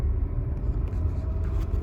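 Steady low engine rumble from a car pulling away from a standstill as the clutch is released, heard close from inside the cabin for a couple of seconds with no talk.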